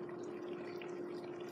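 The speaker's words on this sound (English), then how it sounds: "hope you like waterfall sound." A waterfall as a steady, even rush of falling water with a constant hum running beneath it, continuous and moderately quiet throughout, with no talk.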